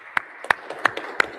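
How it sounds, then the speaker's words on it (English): At a security meetup, the audience answers with a thin, sparse round of applause: four distinct, spaced handclaps standing out over a quiet room. "So how about a round of applause for them?"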